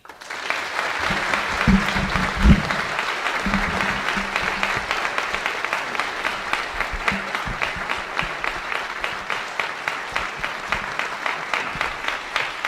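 Sustained audience applause welcoming speaker Dinesh D'Souza at a Canyon High School talk, steady dense clapping throughout with a brief voice near the start.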